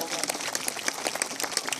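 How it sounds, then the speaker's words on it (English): Audience applause at a bird show in a Melbourne sanctuary, a steady patter of clapping filling the whole moment with bird calls and voices mixed in. "give him a great big round of applause"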